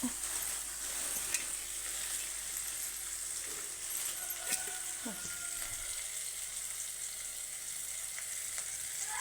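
Chopped carrots hit softened tomatoes frying in a pan for carrot rice. A steady, faint hiss of sizzling runs throughout, with a few small clinks scattered over it and no voices.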